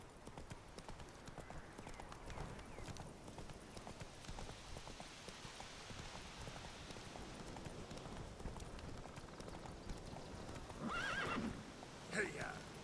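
In The Witcher 3, a horse gallops with steady rhythmic clip-clop hoofbeats and gives a loud neigh near the end, over a continuous game ambience, with a voice urging it on.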